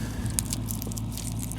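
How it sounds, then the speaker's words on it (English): Dry soybean pods from a thin, struggling double-crop stand crack with brief crunchy snaps up close, a short burst of crisp crackling over a quiet background. "Pods are definitely crunchy."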